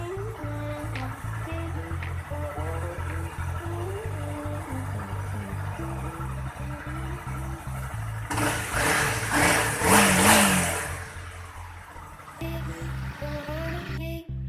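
A Honda CRF250L motorcycle engine idles steadily, then rises in a few throttle snaps around the middle, swelling louder before settling back to idle, close by with no talk.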